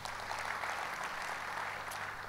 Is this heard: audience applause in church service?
yes